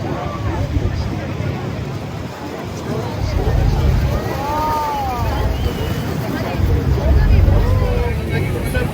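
A boat ride on the water near Niagara Falls, with steady rumbling engine and water noise under strong wind buffeting the microphone, and a voice heard faintly in the mix throughout.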